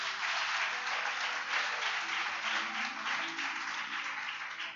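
Sustained crowd applause fills a church service, a dense, steady wash of many hands clapping at even loudness throughout with no pauses, voices faintly mixed beneath the clapping.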